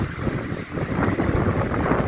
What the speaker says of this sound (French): Il y a du vent, là-bas c'était pire.